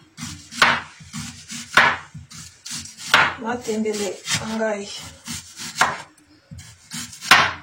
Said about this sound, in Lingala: nazokata matungulu mpona kolambela matembele